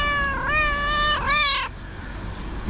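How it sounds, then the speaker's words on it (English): A cat in a played online video gives a long, drawn-out meow followed by a shorter, higher one, both loud and clear over a low background hiss. "Random cat video."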